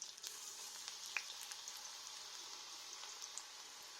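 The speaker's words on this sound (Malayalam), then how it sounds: "ഇപ്പം നമ്മുടെ വെളിച്ചെണ്ണ ചൂടായി വന്നിട്ടുണ്ട്. ഈ സമയം നമുക്ക് ഈ വെളുത്തുള്ളി ഇതിൽ ഇട്ട് കൊടുക്കാം. അതിൻ്റെ കൂടെ തന്നെ നമ്മുടെ ചിക്കനും." Garlic and chicken frying in hot coconut oil, a steady quiet sizzle with light crackling pops throughout and no voices.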